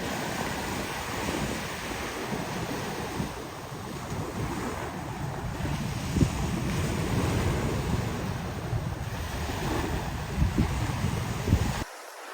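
Steady roar of sea waves washing onto a beach, with gusty wind buffeting the microphone throughout and no voices.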